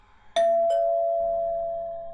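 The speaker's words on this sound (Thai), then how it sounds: "คืนนั้น เวลาประมาณทุ่มกว่าๆมีคนมากดกริ่งหน้าบ้านคุณเล็ก" A doorbell at the front of a house rings out with two sharp chimes close together, the second tone sustaining and slowly fading, with a faint low hum underneath.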